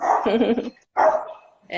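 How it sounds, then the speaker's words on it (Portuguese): A small dog barks in two short bursts with a pause between, fairly close and loud, followed by a brief third yap at the end. "Ó, a cachorrinha, né?"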